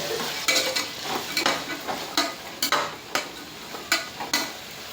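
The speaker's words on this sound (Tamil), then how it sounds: "இதையும் நல்லா பரட்டிக்கணும்" Vegetables sizzle in a pan while being stirred, with repeated scraping strokes of a spatula at an uneven rhythm, close and moderately loud.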